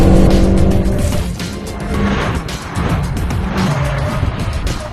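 A Renault Megane RS and a Lynk & Co 03+ race on a circuit. Loud engines roar up close while tires squeal through a corner, and the engine notes hold steady and shift as the cars pass.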